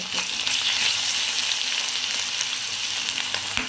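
Ginger garlic paste fries in a pan with a steady, close, bright sizzle, faint stirring scrapes now and then, and no talking.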